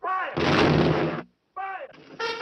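A volley of rifle fire from a 1952 cavalry western film, a loud crackling burst layered over a brass musical score that drops out and then returns.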